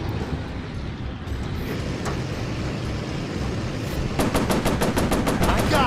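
Rapid machine gun bursts in a warplane combat video game, sharp repeating cracks building toward the end over a constant engine roar, with no talk.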